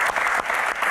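A brief burst of clapping from a small audience at a Q&A talk session, close and dense for about a second.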